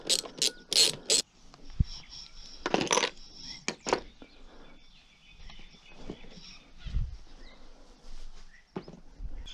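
Metallic clicks and ratcheting from a wrench undoing two 10mm seat bolts on a 2014 KTM 390 Duke, with sharp close bursts early on and scattered lighter taps and scrapes after.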